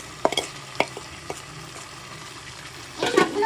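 Spiced curry with yogurt and fried potatoes stirred in a pan: a faint low sizzle under sparse scraping clicks of the spoon, with a busier stirring flurry at the end.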